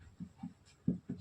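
Marker or chalk writing on a board during a physics lesson, a few short faint strokes in quick succession, close and quiet.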